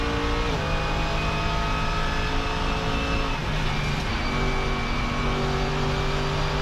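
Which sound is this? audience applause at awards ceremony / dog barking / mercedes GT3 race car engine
mercedes GT3 race car engine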